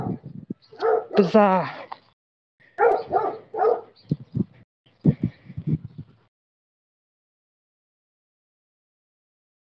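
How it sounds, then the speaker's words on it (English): Several dogs bark and yip in short, uneven bursts, fairly close and loud, for about six seconds before the sound drops away to silence. "at least you're in a place where it sounds like there's a lot of dogs"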